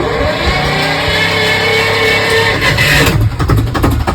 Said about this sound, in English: So to start the engine, I have to press that little button there.